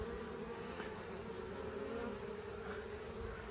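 Honeybees fly in to a hive on a farm, a dense, continuous buzzing drone that stays steady and close throughout.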